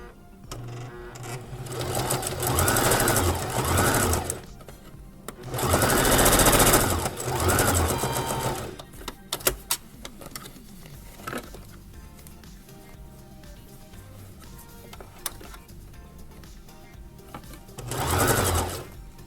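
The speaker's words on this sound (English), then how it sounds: "I will be able to sew this on the inside" An electric sewing machine stitches a pants pocket lining in loud, fast, close mechanical whirring bursts: two long runs, a quieter gap filled with small clicks and handling noise, then a short final burst.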